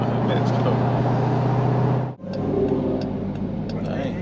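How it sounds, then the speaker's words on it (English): A Dodge Hellcat driving past with a supercharger whine, a steady loud engine drone that cuts out abruptly midway and resumes with a rising tonal whine, voices talking over it. "That was a Hellcat, wasn't it?"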